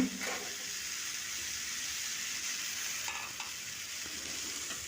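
Pumpkin sautéing in a pan, a steady close sizzle and crackle running throughout with a few brief stirring scrapes near the end.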